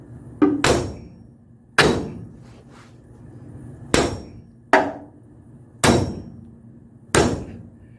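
A hammer strikes a tie rod end to pop it loose, six sharp, loud metallic blows at irregular intervals, each ringing briefly and then decaying, with no talking.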